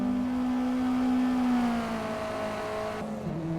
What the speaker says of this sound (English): as the four-wheel drive forcefully pushes the car up the hill